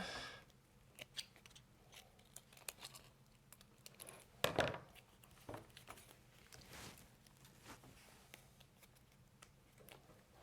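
Scissors trimming the edges of material: quiet, close snips in an irregular series with light rustling, one louder crunching cut midway, no talk.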